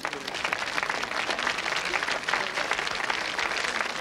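A studio audience on a 1995 Russian TV quiz game show applauds in a dense, steady wash of clapping that fills the whole stretch with no talk over it.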